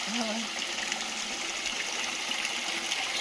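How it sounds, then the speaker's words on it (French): Water pours and splashes steadily from an old mill wheel as someone showers beneath it, a loud, close, continuous gushing, with a brief voice near the start. "Je prends une petite douche, tiens, en même temps."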